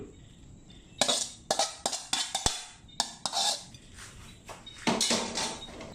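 Stir-fried shrimp and squid in chili paste scraped from a metal pan onto a plate, with a series of clanks, scrapes and clinks of utensil against cookware, close and irregular.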